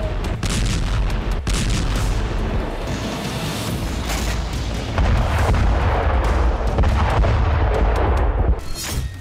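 Airstrikes pound a target with heavy booms and crackling gunfire in news footage, a dense, loud barrage of repeated blasts and rumbling impacts with no clear voices.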